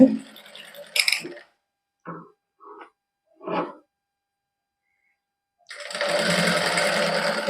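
Sewing machine stitching fine lace onto a sweetheart-style neckline, with short bursts of mechanical whirring and a few brief quiet taps, then a steady, loud run of stitching toward the end.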